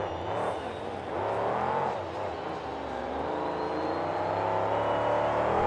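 The Haas CNC monster truck, its entire body removed, runs at a 2008 KORR Monsters event in Jacksonville, Florida. Its engine gives a fairly faint, continuous droning roar whose revs rise and fall, heard from some distance.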